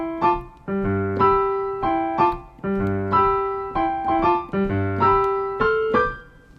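Piano plays a jazz intro over a G pedal, repeated chordal phrases with right-hand figures, clear and close, several rising phrases in a gentle rhythm without any voice.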